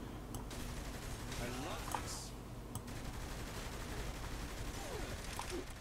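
Gunfire in the game Saints Row 3: steady automatic bursts rattle through the stretch at moderate distance, with a quieter voice talking underneath.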